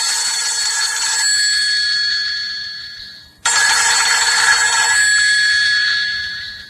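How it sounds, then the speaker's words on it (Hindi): A telephone bell rings loudly in two long bursts, a shrill continuous jangle with a brief pause between rings. "इतने में फोन की घंटी बजी"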